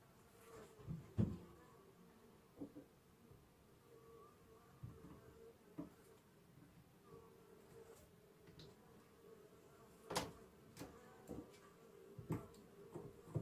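Honeybees buzz faintly around an open hive during a colony inspection, a soft drone broken by occasional sharp clicks and knocks from handling the frames.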